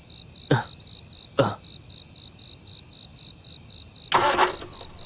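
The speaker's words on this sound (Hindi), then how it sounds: "हे, स्टार्ट नहीं हो रही है यार" A car engine cranks in two brief bursts and then a slightly longer one, each dying without catching, over a steady chorus of crickets in a quiet night setting.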